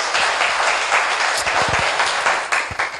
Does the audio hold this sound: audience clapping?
yes